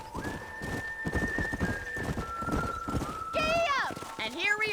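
Horse galloping in the video game Red Dead Redemption, rhythmic hoof clip-clops at a steady pace, then a loud whinny near the end, with a voice calling out over it.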